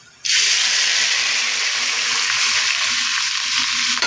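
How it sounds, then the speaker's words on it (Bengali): Beef frying in a pan for Bangladeshi tehari, a loud, steady, close sizzle that bursts on abruptly and holds evenly to the end. "আমি এখন মাংস দিয়ে তেহারি রান্না করার প্রসেসটা করতেছি"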